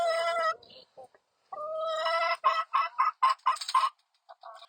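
Backyard chickens clucking close by, starting with drawn-out calls and then breaking into a quick run of short, sharp clucks, with a few quieter ones trailing off at the end.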